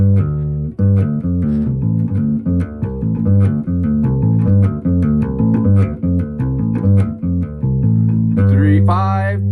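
Electric guitar in drop D tuning playing a lick of plucked notes and pull-offs over low open strings, clean and close, a steady run of picked notes ending on a sliding high phrase.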